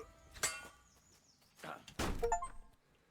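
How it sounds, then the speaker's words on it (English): A shield breaking during melee combat in Kingdom Come: Deliverance 2, heard as a couple of dull wooden thunks and a heavier crunching impact, with brief game voice sounds in between. "you broke an enemy's shield. That's an achievement."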